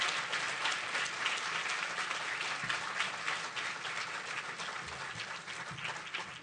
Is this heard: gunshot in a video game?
no